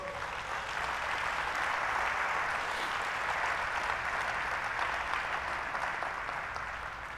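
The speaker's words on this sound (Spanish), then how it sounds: "Vamos, le das un aplauso a Dios." A church congregation applauds at a Sunday service, a dense steady wash of many hands clapping that holds evenly from start to finish with no talk over it.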